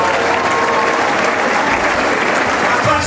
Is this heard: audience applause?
yes